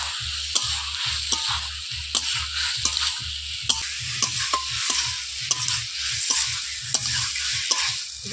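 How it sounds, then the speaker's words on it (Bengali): Boiled jackfruit and potatoes sautéed with spices in a pan, a steady sizzle with rhythmic scrapes of a spatula stirring roughly every half second, close and clear with no talking. "মশলার সঙ্গে আলু আর এঁচোড় ভালোভাবে কষিয়ে নিয়েছি।"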